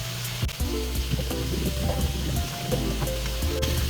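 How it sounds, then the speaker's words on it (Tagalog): Pork adobo sizzling and frying in a pan as it is stirred, a steady close hiss with a few light scrapes and clinks of the spoon against the pan. "Guys, haluin lang natin."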